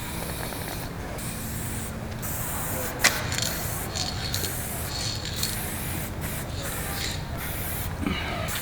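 A spray paint can fitted with a blue soft cap releases repeated hissing bursts of varying length, with a sharp click partway through.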